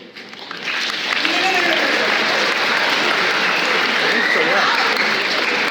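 Steady audience applause at a speaking event swells in after a quiet start and holds at full volume, a dense wash of clapping with faint voices mixed in.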